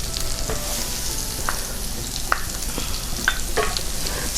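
Hash frying in butter in a pan: a constant close sizzle broken by a few scattered scrapes and light taps from stirring, no voices.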